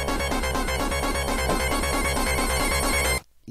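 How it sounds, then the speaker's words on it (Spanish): A mobile phone ringtone plays loud and close, a bright repeating melodic pattern that cycles steadily for about three seconds and then cuts off abruptly into near silence. "Creo que acaban de escuchar mi celular"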